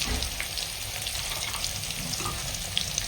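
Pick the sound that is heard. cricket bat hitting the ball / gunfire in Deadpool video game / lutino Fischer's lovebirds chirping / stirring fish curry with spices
stirring fish curry with spices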